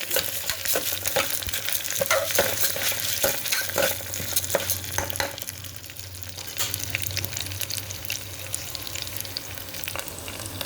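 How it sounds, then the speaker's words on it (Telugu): Toor dal and Malabar spinach fry in a pan, giving a continuous close sizzle with intermittent scrapes and clinks from stirring, steady throughout with no voices. "బచ్చల కూర ఇదిగోటి పప్పు ఇలా వేయించుకుంటున్నాను"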